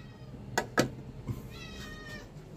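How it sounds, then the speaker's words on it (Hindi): A domestic cat meows twice in quick succession near the microphone in a home kitchen, followed by a softer third cry and a faint tonal trailing murmur over quiet room noise. "बिल्ली माऊ माऊ कर रही है"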